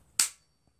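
The trigger of a Kalibrgun Cricket 2 Tactical PCP bullpup air rifle is pulled, giving a single sharp, close crack that decays quickly, followed by a faint tiny click.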